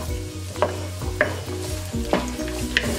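Cut carrot fries with garlic in a hot pan for shrimp rice. A steady sizzle runs throughout, broken by four scraping stirs spaced roughly half a second to a second apart, close up and with no talking.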